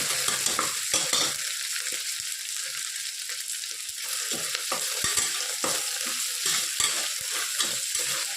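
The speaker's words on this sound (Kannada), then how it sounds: "ಮನೆಯಲ್ಲೇ ನಾನು 2 ಮೇಲೆ ಜಜ್ಜಿಟ್ಕೊಂಡಿರುವಂಥ ಶುಂಠಿ ಬೆಳ್ಳುಳ್ಳಿ ಪೇಸ್ಟ್ ಹಾಕಿದೆ" Ginger garlic paste fries in a pan with a loud, close, steady sizzle, broken by repeated scraping and clinking of a spoon stirring against the metal.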